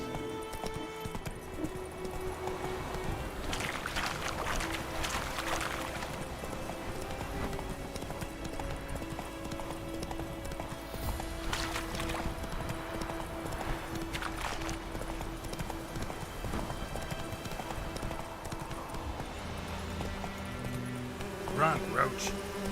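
Roach, Geralt's horse in The Witcher 3: Wild Hunt, gallops with steady, rhythmic hoofbeats that run throughout at close range, with occasional voices and game sounds layered in.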